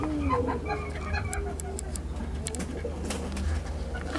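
Pigeons coo in low, soft repeated calls amid a busy birdy background, with scattered clicks and rustles close by.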